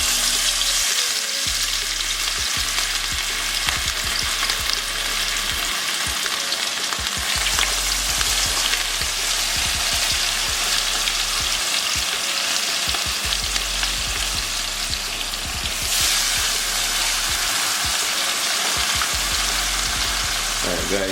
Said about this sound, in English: so the key thing about frying fish, when you put the fish in the pot, don't try to turn it quickly